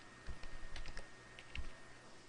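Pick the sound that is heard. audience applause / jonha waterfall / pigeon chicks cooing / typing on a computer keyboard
typing on a computer keyboard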